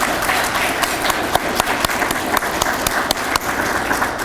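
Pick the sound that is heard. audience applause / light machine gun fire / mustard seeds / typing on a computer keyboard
audience applause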